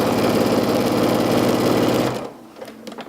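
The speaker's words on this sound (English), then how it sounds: "And we'll just go ahead and sew." A sewing machine stitching fabric shirred with elastic thread, running steadily and loudly for about two seconds before stopping, leaving only faint handling noises.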